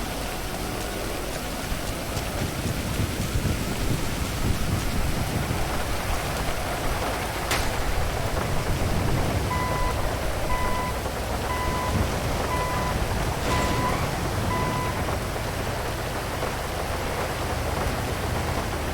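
Steady rain falling outdoors, a continuous hiss of drops on surfaces with a couple of brief sharper clicks and a faint repeating beep in the background.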